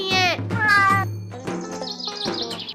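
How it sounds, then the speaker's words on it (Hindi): A baby bird in a comedy sketch gives a few high, squeaky chirping cries in quick succession, loud and close, followed by other shrill tones. "अरे ये तो चिड़िया के बच्चे की आवाज आ रही है"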